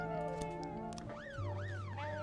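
Police car siren in the video game This Is The Police, an electronic wail rising and falling in repeated sweeps over steady tonal game music.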